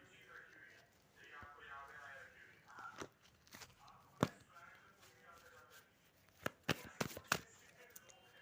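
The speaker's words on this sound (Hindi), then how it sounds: "तब तक मैं आपकी कार्ड्स निकाल लेती हूँ।" Tarot cards handled and shuffled, with soft card riffles and taps building to a cluster of sharp snaps near the end, under a faint voice and room hum.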